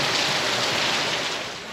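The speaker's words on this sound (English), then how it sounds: "this is like proper wet rain" Heavy, soaking rain pours steadily outdoors on a wet dirt track in Sri Lanka, a dense, close, unbroken hiss that eases slightly toward the end, with no voices.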